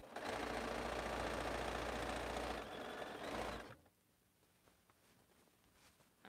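A sewing machine runs steadily while stitching a row of a quilt, loud and continuous for about three and a half seconds before stopping, leaving quiet room tone.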